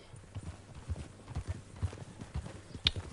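Steady clip-clop of thoroughbred horse hooves at a walking pace in Red Dead Redemption 2, a little muffled, with a faint rustle and a short high tone near the end.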